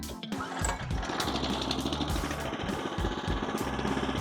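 A Firman FTL900H cultivator's small engine starts and runs out in a field, a rough, rapid, chugging putter that stays steady and fairly close throughout.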